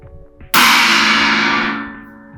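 A CX600 piece of a drum kit is struck once in a rehearsal studio, giving a sudden, very loud, hard metallic crash that rings bright and sustained before fading over about two seconds.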